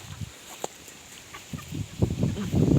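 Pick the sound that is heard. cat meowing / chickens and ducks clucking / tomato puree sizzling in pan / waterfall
chickens and ducks clucking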